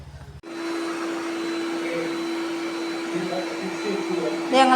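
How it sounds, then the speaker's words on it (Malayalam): A dust-sweeping vacuum machine starts abruptly and runs loud and close in a steady high whine, with faint voices underneath and a brief louder clatter at the end. "പൊടിയൊക്കെ തൂത്തുവാരി എടുക്കണ മെഷീൻ."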